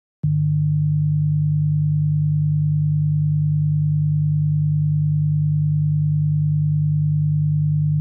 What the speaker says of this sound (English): if I take 100 Hz and add to that 150 Hz